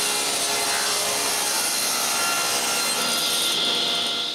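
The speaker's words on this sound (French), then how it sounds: "je coupe les 3 morceaux en même temps" Handsaw cutting through three stacked wooden pieces at once for a kitchen build, a steady close back-and-forth rasping that runs unbroken and loud, with no talk.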